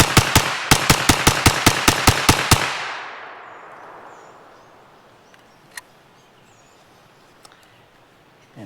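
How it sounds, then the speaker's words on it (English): A Romanian-made Nova NAK-9R 9mm AK-pattern carbine with a pistol grip fires a fast string of about a dozen loud, evenly spaced shots, followed by a long echoing tail and a few faint distant pops. "Try a little bit faster fire now that we have the pistol grip."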